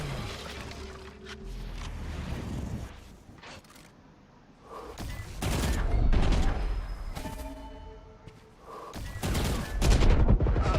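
Gunfire in a competitive Valorant esports match, with bursts of rifle shots and impacts in clusters, loud and close, separated by quieter stretches of game ambience.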